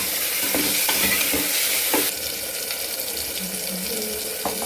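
Brinjal, beans and tomato being stirred together in a pan while cooking, with scraping, clattering stirring strokes over a continuous hissing sizzle, close and moderately loud.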